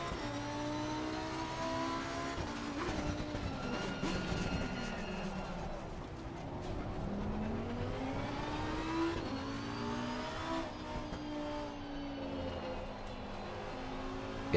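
A race car in the Assetto Corsa Competizione racing game runs continuously, its engine revving up and down through the gears with steady, close, unbroken drone and shifting pitch.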